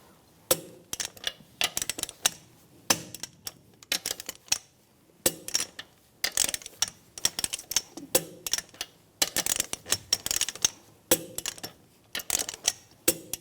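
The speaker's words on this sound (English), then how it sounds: "Now I'm going to torque the lug nuts down to 80 foot-pounds in a cross pattern" Torque wrench clicking repeatedly as lug nuts are tightened on a 2004-2009 Toyota Prius wheel in a cross pattern, sharp close metallic clicks and ratchet snaps coming in quick irregular bursts with short pauses between.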